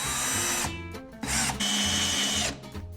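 A power drill drives screws into a bathroom wall to hang a towel rack, its motor whining in loud, sustained bursts broken by short pauses.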